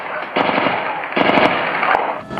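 Gunfire during a police operation in the Fazendinha favela comes in rapid bursts of loud, sharp reports, with two dense volleys separated by a short gap.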